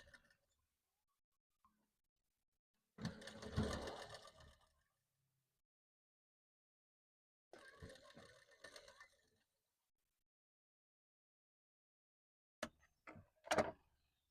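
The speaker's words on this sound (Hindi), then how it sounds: "फिर मैं इसके ऊपर सिलाई लगा लूंगी।" A sewing machine stitches a katori blouse in three short runs of whirring, rattling mechanical noise separated by silence, the last a few quick stop-start bursts, close and fairly quiet.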